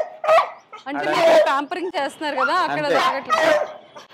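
A hyper beagle at a pet shop and kennel in Hyderabad barks and yips in quick excited bursts, close and loud, mixed with people talking nearby.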